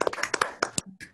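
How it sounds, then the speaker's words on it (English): Scattered clapping from several people on a video call, uneven claps with short gaps, fairly thin and close, lasting about a second. "Could we have a concluding round of applause?"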